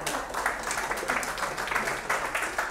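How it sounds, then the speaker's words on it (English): Audience applause at a parlour magic show, steady dense clapping throughout with no voices over it. "Let's give them a big round of applause."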